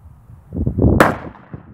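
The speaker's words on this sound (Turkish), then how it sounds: "Aynen, silah iyi atıyor. Mermiler de çok güzel patlıyor mübarek." A rifle fires a single sharp shot at a target, a loud crack rising out of a low rustling background with no talk.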